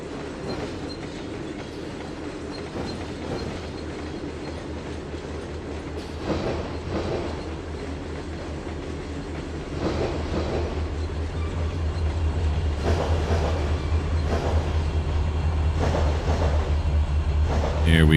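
Train cars in Trainz 2022 roll along the track with rhythmic clickety-clack and occasional squeals, growing louder and heavier toward the end, no voices heard.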